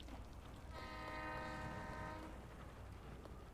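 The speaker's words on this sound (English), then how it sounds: "There's the train." A quiet train horn blows one sustained tone for about a second and a half over a low rumble of a passing train in the Peppa Pig video game Hungry Pig, with no one speaking.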